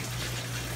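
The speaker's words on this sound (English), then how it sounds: "We got water going back in the sump." Water gushes steadily back into the sump of a fish-room aquarium, a close, continuous rushing wash over a low pump hum.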